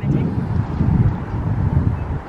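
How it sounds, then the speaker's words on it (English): Strong, cold wind on a very windy day buffets the microphone in a steady low roar, with voices faintly underneath. "It's the windiest day of the year. It's so windy and so cold."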